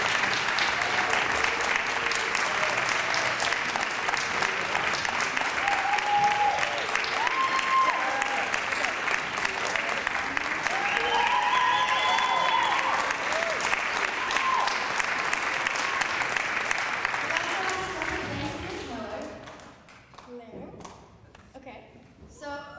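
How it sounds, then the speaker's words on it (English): Concert audience at St Philip Neri applauding soloists and readers with loud, sustained clapping that fills the hall for nearly twenty seconds before thinning out to scattered claps. "Can I have our soloists and readers come on down real quick so we can give them a round of applause here"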